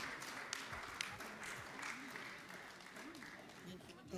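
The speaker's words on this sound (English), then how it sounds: "can we give a round of applause?" Applause from participants at a women's business financing session, a moderate, steady patter of clapping across a few seconds, with a voice talking faintly over it.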